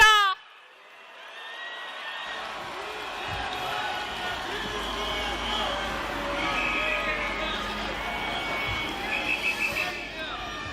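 A large crowd at a Democratic Party political rally roars and cheers continuously, a broad sustained wall of voices and whoops that swells near the end, with an announcer's voice heard over it.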